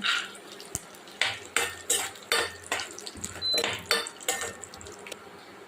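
Peanuts tossed into hot oil with crushed garlic in a pan give a run of repeated metallic scrapes and clatters from stirring. Each one lands as a short, close burst over a soft sizzle, and no one speaks.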